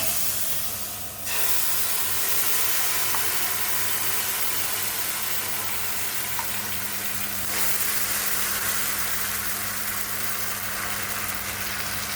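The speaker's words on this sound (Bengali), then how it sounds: "ব্যাটারকে আমি ঢেলে দেবো" Uttapam batter hits a hot pan with a loud, steady steaming hiss and sizzle that holds for most of the stretch after a short pause, close and with no talking.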